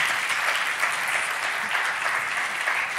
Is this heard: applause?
yes